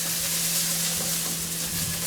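Onions caramelizing in a pan give off a steady, close sizzle with a faint hum underneath and no talking.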